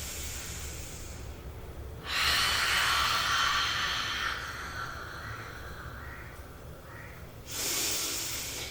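Forceful abdominal breathing exhales at 70% effort, two strong hissing breaths through the mouth, close and clear, separated by a quieter breathy stretch.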